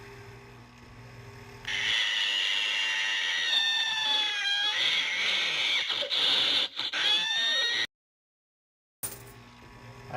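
A cat meows and yowls repeatedly in rising, squealing cries, loud and close, played as a reward clip on a coin pusher game, cutting to brief silence before a short burst of machine sound resumes.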